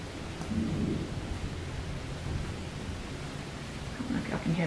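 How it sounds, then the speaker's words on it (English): Thunder rolling during an outdoor rainstorm, heard through open windows of a home gym: steady rain hiss with deep, distant rumbles swelling and fading throughout. "Hear that thunder."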